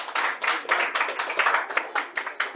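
A small group of people clap steadily for a child at a school science exhibition, with close, brisk, uneven hand claps running continuously without talk.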